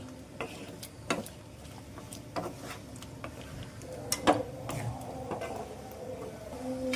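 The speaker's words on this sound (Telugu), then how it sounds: "ఒక స్పూన్ వరకు బెల్లం అలాగే కొద్దిగా సాల్టు కొంచెం పసుపు వేసేసి ఒకసారి వీటన్నిటిని మిక్స్ చేసేయండి" A spoon stirs pumpkin curry with jaggery, salt and turmeric in a pan, giving soft scraping and clicking taps at an uneven pace over a low, steady sizzle.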